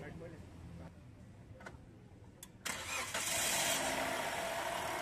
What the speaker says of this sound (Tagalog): Ipa-switch off ko naman itong makina. Tapos ipapa-start ko yan.